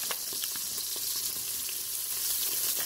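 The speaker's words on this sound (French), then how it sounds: "J'ajoute aussi des lardons" Bacon lardons sizzling in hot oil alongside sausages and onion, a dense, steady frying hiss with faint crackles, close and continuous with no talk.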